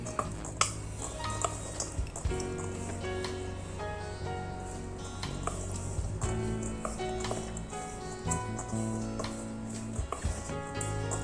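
Black eyed bean salad ingredients are mixed together with a utensil in a bowl, giving steady clicking and tapping under a background of music.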